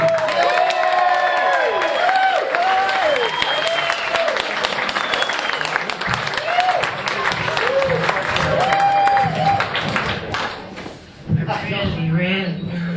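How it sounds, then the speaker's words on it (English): Live comedy-show audience applauding and cheering loudly and steadily, a dense wash of clapping with whoops and shouts, briefly dipping near the end before swelling again, with a host's voice over it. "Let's have a warm round of applause."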